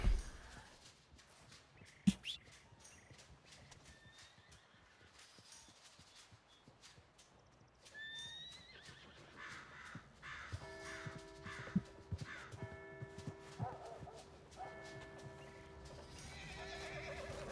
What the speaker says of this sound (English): Okay, este sí es mi caballo.